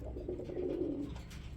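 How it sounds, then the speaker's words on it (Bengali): A pair of Sirazi pigeons coo in one soft, low rolling phrase over a steady background hum, alone without voices. "খুবই সুন্দর এক জোড়া চেতা সিরাজি কবুতর"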